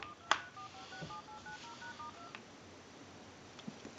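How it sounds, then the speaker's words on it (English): Telephone redial on a handset under repair, a Pacific Bell animated Mickey Mouse phone: a quick, clear run of DTMF keypad tones plays alone, with a click at the start and faint clicks afterward. "Now what we want to do is hang up, dial tone, and we're going to hit redial."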